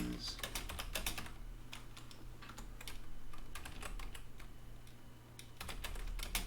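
Someone types on a PC keyboard during a solo board game playthrough, with rapid, uneven bursts of close key clicks broken by short pauses, set against a low steady hum.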